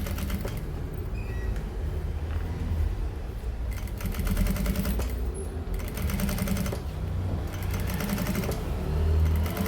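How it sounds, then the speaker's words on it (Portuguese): Sewing machine running steadily as it stitches a seam on a zipper pouch, a continuous close mechanical whir with a few brief pauses and no talking. "Vou passar uma costura aqui agora, prendendo de pescoço."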